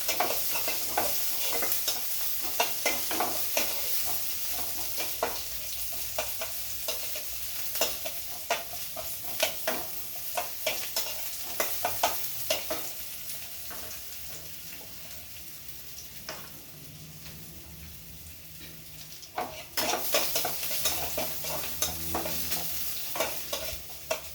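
Onions frying lightly in a pan for masoor dal, with steady sizzling and repeated stirring scrapes throughout, loud and close, briefly quieter before the sizzle surges again near the end.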